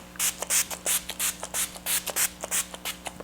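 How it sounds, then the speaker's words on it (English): Rapid short hissing bursts of a spray bottle repeat in a quick, even rhythm, close and crisp, with no talking. "let's do some setting spray."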